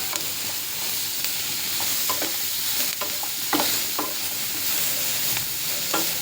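Tomatoes with turmeric and cumin fry in a pan under a constant close sizzle, punctuated by repeated scraping and clacking strokes of a spoon stirring at an irregular rhythm, no voices.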